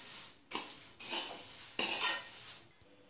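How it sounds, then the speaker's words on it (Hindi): Spices being stirred into a chivda mixture in a pan, with bursts of dry scraping and rustling from a spoon working the mix, broken by short pauses. "अब हम इसमें डालेंगे धनिया पाउडर और लाल मिर्च पाउडर डाल के अच्छे से हम इसमें मिक्स कर लेंगे।"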